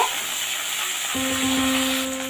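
Chopped shiuli leaves tipped into hot tempering oil, a steady bright sizzle and hiss, with a low scraping stir and a faint tonal hum joining partway through.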